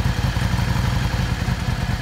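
A Yamaha Star 650 motorcycle engine with a freshly cleaned carburetor, rolled gently just off idle, gives a close, steady throbbing putter with an even, rapid pulse and a light mechanical clatter.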